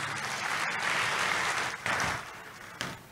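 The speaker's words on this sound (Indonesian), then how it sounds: "Tepuk tangan buat Tuhan Yesus." Church congregation applauding Jesus during a sermon, a steady broad wash of many hands clapping together for about three seconds, fairly distant and even, with no voices over it.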